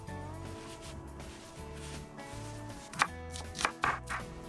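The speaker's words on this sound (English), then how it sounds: "Now I'm just gonna go ahead and mince up my onion." A knife minces onion on a cutting board at a campfire cooking setup, steady rhythmic chopping taps with a few sharper, louder knocks toward the end, close and clear.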